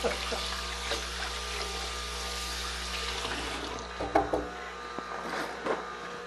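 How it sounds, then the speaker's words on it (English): Water runs steadily from a kitchen tap during hand washing, a continuous broadband hiss with a few louder splashes and clatters, recorded close by in a home kitchen while baking. "I'm gonna wash my hands."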